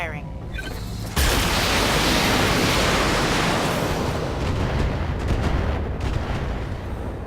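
Mech weapons firing in the video game Battletech start with a sudden loud burst, then a sustained roaring wash of noise that slowly fades, with faint voices under it at the start.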